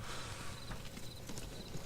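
Horse hooves clip-clop steadily in the western video game GUN, a continuous dense trot under a noisy game soundscape, with no talking.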